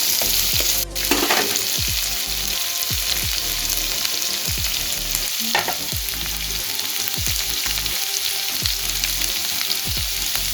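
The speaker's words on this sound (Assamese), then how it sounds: "এইখিনি মই ভালকৈ ভাজি লোৱাৰ পিছত মই জিৰা আৰু জলকীয়া গুড়িখিনি দিম।" Spices and fish-mash masala fry and sizzle steadily in a pan for an Assamese curry, with repeated scraping strokes of a spoon stirring the mixture at a fairly even rhythm, close by, with no talking.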